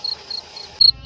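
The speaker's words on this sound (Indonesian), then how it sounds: "Suara jangkrik di halaman terdengar syahdu mengantar kesenyapan malam" Crickets chirp at night in a courtyard, with a few close, bright trilling bursts spaced apart and a louder burst near the end against quiet background.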